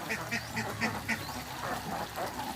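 Several laying ducks on a farm quack in a quick, steady rhythm, close by, with a busy outdoor background.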